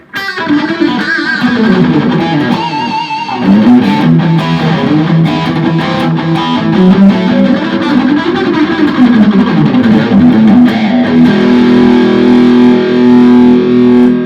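Loud, gritty distorted electric guitar, a Telecaster with a DiMarzio Super Distortion T pickup and no effects, playing chords and ringing notes continuously, thick and saturated with bright harmonics, no voices.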